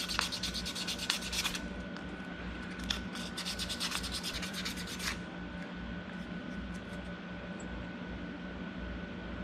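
A sheet of sandpaper rubs across a metal casting in steady, close strokes. The gritty scraping comes in repeated bursts for about five seconds, then settles into a quieter rasp with no talking.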